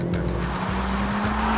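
A Kia prototype car driving on a motorway test section: a loud, steady engine drone with tire roar, heard close from inside or near the moving car, with no talk.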